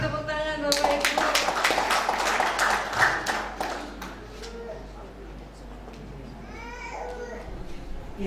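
Wedding guests burst into brisk clapping at close range, the applause swelling for a few seconds and then fading, with murmuring voices and a child's babble underneath.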